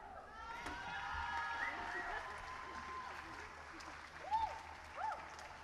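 An audience applauds at a concert featuring a violin made from a paint can, steady clapping that fades into the background while a voice speaks over it.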